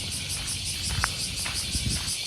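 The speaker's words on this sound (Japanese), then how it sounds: "クマゼミだ。" Bear cicadas sing in summer around the Saga Castle ruins in Kyushu, a pulsing, high, rasping chorus throbbing at a steady rate in the background, with faint scattered sounds underneath.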